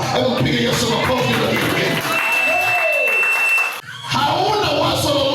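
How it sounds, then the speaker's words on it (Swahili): A church congregation claps together in a dense burst of applause that stops briefly and then picks up again, with a preacher's voice mixed into the sound. "Hebu mpige Yesu makofi"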